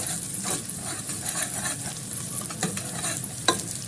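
Onions frying to golden brown give a close, crackling sizzle with a few spoon scrapes and stirring clatters over a few seconds.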